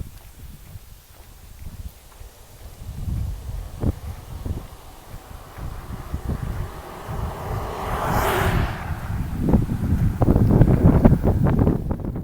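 Gusty wind buffets the microphone along a hiking trail on a North Country Trail thru-hike, a steady low rumble with footsteps and scuffs, swelling louder toward the end.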